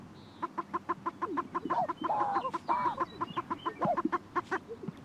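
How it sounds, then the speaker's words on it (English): Sage grouse cocks displaying on a lek, a rapid series of sharp popping and clucking notes with gurgling bursts, faint and moderately distant, with no voices. "Sage grouse gather on traditional booming grounds, called leks, where the cocks display for the attention of the hens"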